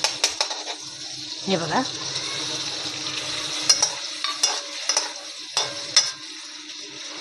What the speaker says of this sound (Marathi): थोडा गॅस फास्ट करते, चांगला खरपूस भाजून घेते मी.